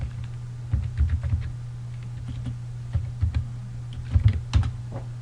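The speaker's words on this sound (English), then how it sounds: "I'm just going to have you type in worldbank.org." Typing a web address on a computer keyboard, heard as short clusters of quick, light key clicks separated by pauses over a steady low hum, close by and without speech.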